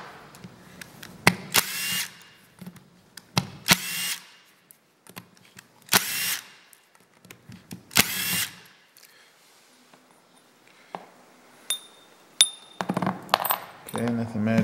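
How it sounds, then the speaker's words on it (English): Several short bursts of a power drill whirring, each a couple of seconds long with pauses between, close by, followed by small clatters. "I'm gonna use some power tools here."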